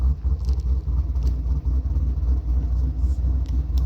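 Chevrolet Caprice PPV V8 with an aggressive aftermarket cam idling roughly, a deep loping rumble with uneven pulses, close and steady with no talking.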